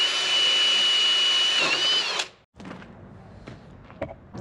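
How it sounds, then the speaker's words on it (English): A power drill bores through pre-drilled holes into a metal tube, a loud high-pitched whine that runs steadily, then stops, followed by several faint clicks and taps of handling. "Now I just drill through all the holes into the tube."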